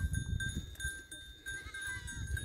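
Goats on a hillside path up to an old fortress, heard close by with low, restless livestock sounds and shuffling, mostly steady with a brief dip midway.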